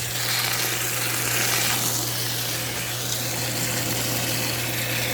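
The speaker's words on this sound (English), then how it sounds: "And we add some water to it." Well water pouring steadily into an animal feed bucket on a ranch, a continuous loud gushing rush with a steady pump hum underneath.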